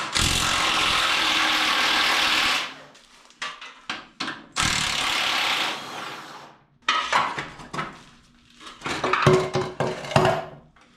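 A socket wrench ratchets on suspension bolts of a chopped Ford truck being fitted with airbag suspension. Bursts of clicking and rubbing come in several bouts with short pauses between, loud and close.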